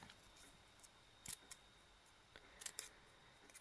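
Scissors snip through a paper strip for a handmade card, a few crisp, close cuts in small clusters against a quiet room, with no talk.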